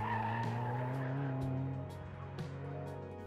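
Mazda Miata cars on an autocross course at a test-and-tune event, heard from a distance as engine notes rise and fall with tire squeal and skidding while a car works through the corners.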